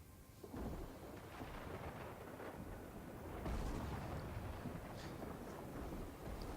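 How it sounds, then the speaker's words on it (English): Thunderstorm over the ocean in a video game, with a continuous rumbling roar of thunder and rain that swells slightly partway through and stays dense and even throughout, with no voices. "Nice little storm over the ocean there."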